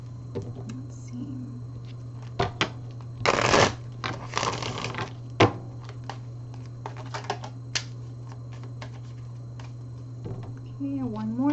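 Tarot cards are shuffled and cut by hand, giving a few dense riffling bursts and scattered soft taps and slaps of the deck over a steady low hum, with brief voice sounds near the end.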